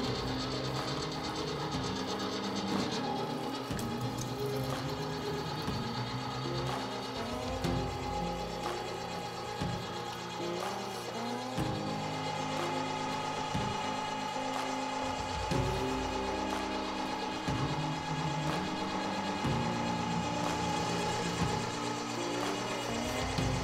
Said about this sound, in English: just get the grinder fired up and turn it into smaller pieces